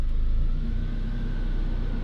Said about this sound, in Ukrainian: Давайте попробуємо запустити автомобіль. Так, вмикаємо кондиціонер.